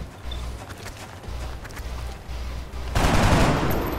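Soldier gunfire in the turn-based strategy game XCOM Long War, a loud sustained burst of rapid shots that erupts after a stretch of quieter game ambience, with no talking.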